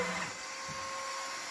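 A robot vacuum cleaner runs with a steady, fairly quiet high-pitched whir and a constant electric hum, with no talk over it.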